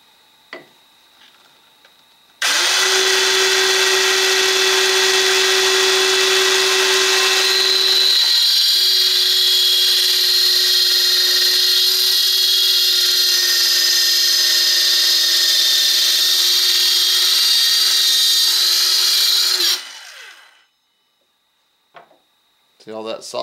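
A Makita SH02Z 3-3/8 inch cordless circular saw cuts through wood. It starts abruptly and runs as a loud, steady high whine for about seventeen seconds before stopping, close to the listener.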